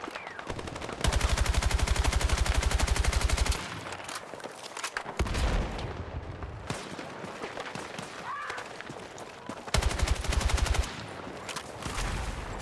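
Rapid automatic hipfire bursts from a Battlefield 6 weapon fired at a wall in a shooting test, two long sustained volleys several seconds apart with quieter in-game ambience and scattered shots between.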